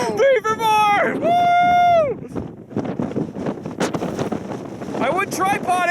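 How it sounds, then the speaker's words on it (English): Strong wind buffets the microphone in steady roaring gusts while storm chasers in Eva, Oklahoma shout and cheer excitedly over it, close and loud throughout. "it's too windy to leave the tripod up"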